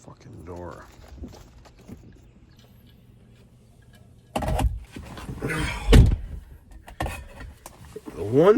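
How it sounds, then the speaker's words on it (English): A Tesla car door being handled, with clunks and thuds as it opens and shuts, a sharp close slam near the middle, along with rustling and people talking. "The one thing I found about the Tesla that I don't really favor is the door."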